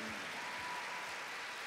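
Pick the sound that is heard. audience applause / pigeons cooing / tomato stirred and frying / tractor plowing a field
audience applause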